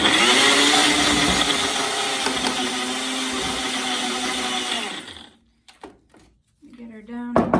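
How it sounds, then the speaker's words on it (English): A small NutriBullet blender grinds broken pieces into powder with a loud, steady motor whine for about five seconds, then cuts off; brief knocks and a short restart follow. "They all just get tossed into my little NutriBullet thing here."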